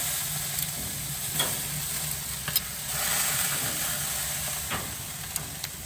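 Food fries on a barbecue grill (mangal), a continuous soft sizzle and hiss with a few sharp pops and crackles scattered throughout, fairly quiet and without talk.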